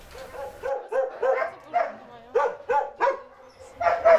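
Dog at an animal shelter barking in a steady series of loud, close barks and yips, with a few whimpers and brief gaps between them.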